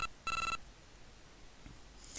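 A mobile phone rings in the Telefang video game, one short bright electronic chiptune burst, fairly loud and alone, followed by quiet.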